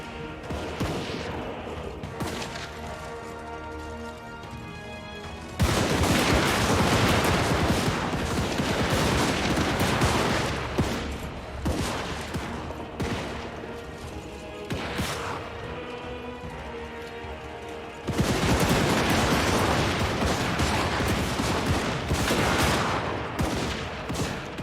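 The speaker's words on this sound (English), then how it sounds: "gunners are pinging away." Gunners fire during a battle in Total War: Warhammer III, loud dense volleys of gunfire crackling continuously with sharp cracks and crashes, swelling into heavier bursts twice over a steady battle din.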